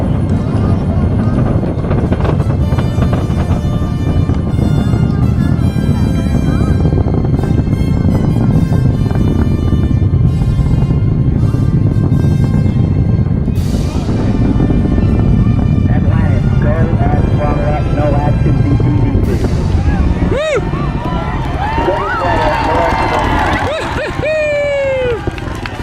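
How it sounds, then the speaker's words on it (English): Space Shuttle Atlantis liquid-fuel main engines during its final launch: a loud, continuous broadband roar that holds steady for the whole stretch, with crowd cheering and talk layered over the rumble toward the end. "Engines now revving up, standing by for the throttle up call."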